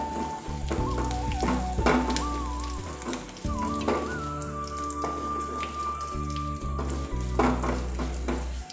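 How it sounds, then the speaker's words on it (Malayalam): Cut dried red chillies sizzle and crackle in hot oil in a pan for a Kerala Onam sadya curry, a steady close frying hiss under background music. "ഇതിലേക്ക് നമുക്ക് രണ്ട് വറ്റാമുളക് കട്ട് ചെയ്ത് കൊടുക്കാം."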